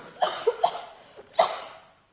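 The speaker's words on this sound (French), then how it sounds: "Vous toussez" A few short, sharp coughs in quick succession, then a pause and one more, close and fairly quiet.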